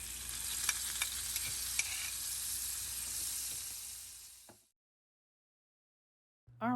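Butter and olive oil melting and sizzling in a sauté pan before noodles go in, a steady bright hiss with faint stirring clicks that cuts off into silence partway through.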